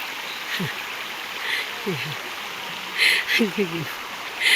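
Flowing creek with a constant soft hiss of water throughout, while brief voices and exclamations come and go over it.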